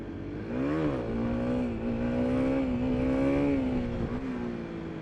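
Motorcycle engine pulling steadily at around 25 mph, its pitch rising as it accelerates, dipping briefly at a clutch-assisted upshift into second gear, then climbing again in a continuous, close, loud drone with no voices.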